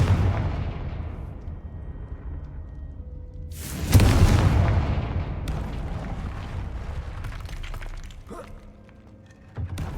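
A Confringo blast spell in a Harry Potter video game: a heavy booming explosion bursts partway through and rolls off into a long crackling, debris-filled decay, over a low ambient rumble, with a smaller pop near the end.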